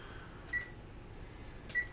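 An oven control panel gives two short, thin beeps about a second apart while being set to 350, faint and close against a quiet kitchen background.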